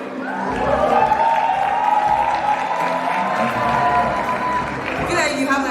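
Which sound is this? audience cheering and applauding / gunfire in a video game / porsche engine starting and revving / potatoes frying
audience cheering and applauding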